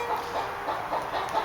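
Hen clucking with an urge to lay eggs, a steady run of soft, repeated clucks heard at moderate distance with no talking over them.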